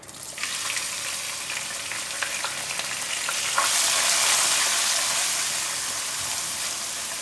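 Finely chopped onion and three green chillies fry in a pan for aloo bhindi, a steady, close sizzle and crackle that swells midway and continues without any talk.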